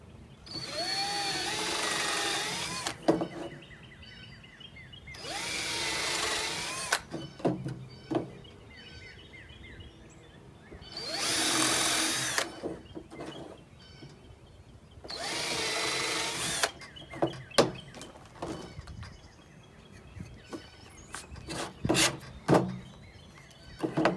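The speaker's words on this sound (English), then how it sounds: "We'll go ahead and drill these with our countersink bit." Power drill with a countersink bit boring into wood boards for a bird feeder, heard in four loud bursts of a few seconds each, with clattering and handling knocks in between.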